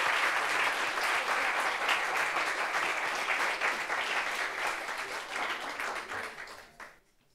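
Steady applause from a French television studio audience greets a guest called Lazare, a full crowd of clapping hands holding for about six seconds before tapering off and fading out.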